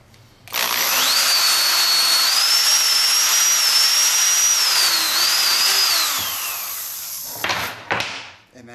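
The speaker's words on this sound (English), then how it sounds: "now I've got my countersink bit on my drill" A power drill with a countersink bit whines loudly and steadily for several seconds while countersinking a concrete countertop form, then winds down, followed by a couple of brief knocks.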